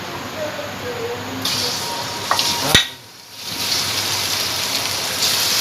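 Raw chicken pieces hitting a hot karahi for a spicy chicken dish, giving a broad, steady sizzle with a sharp clatter partway through, then a brief dip before the frying hiss builds again.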